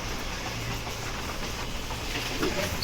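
Guntur–Repalle MEMU train number 67249 rushing along at speed, heard from inside as a steady low rumble and hiss that swells slightly toward the end, with no voices.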